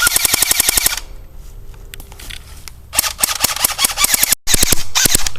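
An AGM Sten MKII airsoft submachine gun run on a LiPo fires fully automatic in rapid mechanical bursts, loud and close, with a pause between strings of shots.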